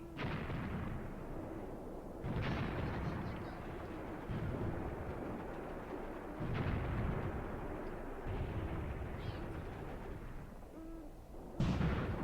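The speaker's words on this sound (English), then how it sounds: "Ah, now they're firing." Artillery firing during a night raid in the war game Graviteam Tactics: several heavy, distant booms land a few seconds apart over a low, rumbling battlefield background.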